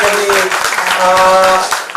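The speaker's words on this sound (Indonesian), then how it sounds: "Tepuk tangan dulu untuk komitmennya." Applause from an audience at a university public lecture on communication ethics, a dense burst of clapping lasting about two seconds with some voices mixed in.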